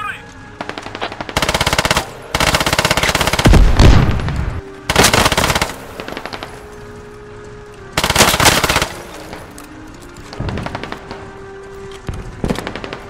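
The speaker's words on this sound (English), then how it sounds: "They're just laying down covering fire," Loud automatic gunfire in a video game comes in long sustained bursts of covering fire with short pauses between them, alongside sharper single shots and faint background clatter.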